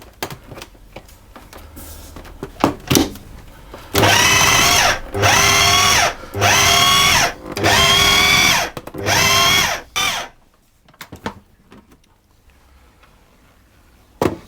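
A food processor pulses egg, lemon zest and lemon extract into lemon cookie dough, giving five loud, whirring bursts of about a second each with brief gaps, then a clatter and quiet handling.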